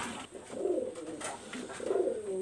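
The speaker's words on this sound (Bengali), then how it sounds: "এই দেখেন শাহরামপুরি টুপিদার কবুতর" Shah Rampuri crested pigeons coo in low, rolling phrases, two clear bursts close by over a faint background hiss.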